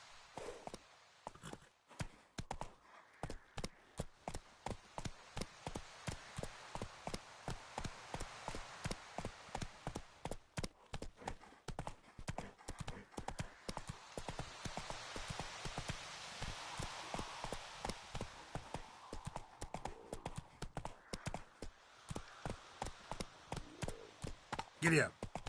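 Horse hooves pound in a fast, steady galloping rhythm in a PS4 video game, close and continuous for the whole stretch with only slight shifts in pace.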